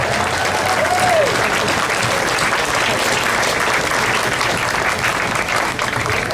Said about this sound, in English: let's please give them a round of applause for standing up to hate